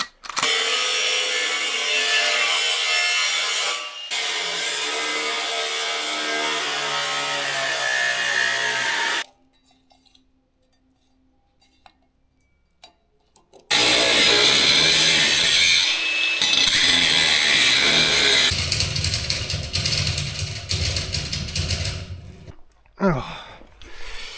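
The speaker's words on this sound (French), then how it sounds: "Je vais commencer toujours à découper les tôles" Sheet metal panels being cut with a power tool, a loud harsh grinding roar running for several seconds, breaking off into near silence, then resuming with rougher, shifting cutting noise.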